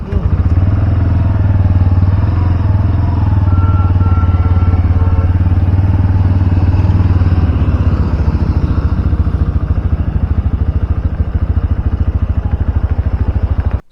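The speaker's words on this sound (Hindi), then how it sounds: "एक्सीलरेट ज़्यादा नहीं दिया है मैंने, एक्सीलरेशन में थोड़ा अलग साउंड आता है।" Bajaj Pulsar N125 125 cc motorcycle engine running close by, a loud steady thrumming exhaust with a rapid pulse that shifts pitch slightly partway through, only light throttle applied.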